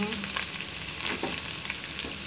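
Chopped ginger, papaya and carrot sizzle steadily in a frying pan for Bangladeshi-style beef vegetable rolls, a soft continuous crackle with occasional stirring scrapes, close and fairly quiet.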